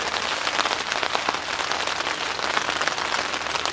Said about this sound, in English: it's starting to rain pretty good